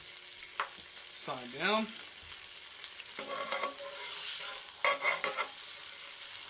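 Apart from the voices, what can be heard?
thin bologna sausage slices frying in a pan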